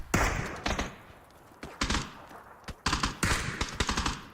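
Bursts of automatic gunfire in the battle royale game PUBG, loud and close, several rapid volleys with short pauses between them and no talk over them.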